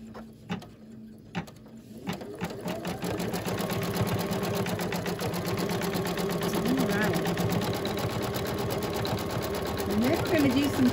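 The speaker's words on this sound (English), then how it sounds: "I'm just going to do step one, which is stitch down the batting" An embroidery machine stitching down batting in the hoop starts after a few clicks, then runs as a fast, steady mechanical whir of needle strokes, close and loud, with a person speaking over it.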